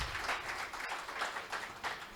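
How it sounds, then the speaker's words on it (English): A round of applause from a small audience at a chat event, moderate clapping that swells and dips in uneven waves, somewhat distant and without voices. "Round of applause, man."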